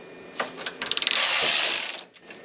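Ratchet wrench clicking in a quick run of sharp ticks as it tightens a bolt for a ground strap on a cheap, neglected luxury SUV, then a longer whirring spin before it stops, close and alone.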